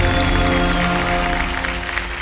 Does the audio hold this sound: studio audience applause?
yes